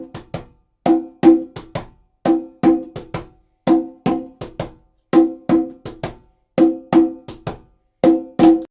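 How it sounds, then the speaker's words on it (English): Conga drums play a repeating one high, two low, one high pattern, with bright, resonant hand strokes in a steady groove, close and unaccompanied. "And if I want to do that in the conga, it's gonna be the same."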